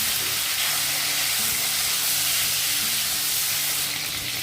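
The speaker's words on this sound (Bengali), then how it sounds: "নুন হলুদ মাখিয়ে মাছের মুড়োটা ভেজে নেব ভালো করে।" Hilsa fish head pieces, coated in salt and turmeric, fry in hot oil with a loud, steady sizzle and hiss that continues unbroken throughout, without any voices.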